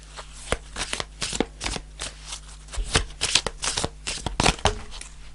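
Tarot cards being shuffled by hand in a fast, crisp riffling flurry of papery slaps and flicks, close and steady throughout with no talk.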